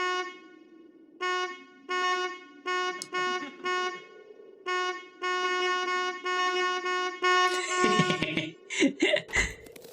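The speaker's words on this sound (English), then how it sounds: "Cargo honk." A cargo ship horn in the video game Tiny Bunny honks repeatedly in short and longer toots with a steady rhythm, followed by a clatter of noisier sounds near the end.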